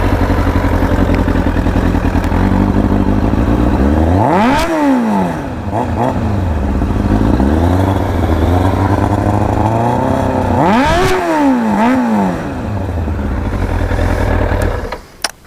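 Motorcycle with a newer engine runs through its aftermarket exhaust, idling steadily before two sharp revs that climb and fall back, around 5 and 11 seconds, then the engine cuts off near the end.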